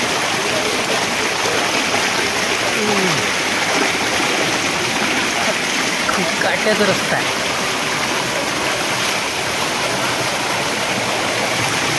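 A waterfall near Boisar village pours with a strong, continuous roar, the rushing water filling the whole stretch while someone talks briefly over it.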